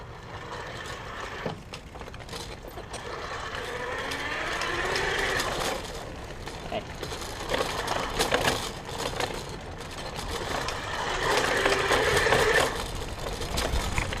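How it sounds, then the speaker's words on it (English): Motor of a 2015 eProdigy Banff electric bike in pedal assist mode, a whirring, ratcheting mechanical drone that swells and fades with pedaling, mixed with road rattle and wind. "I'm going to start off in pedal assist mode, and I'm going to pedal, and you can listen for the motor"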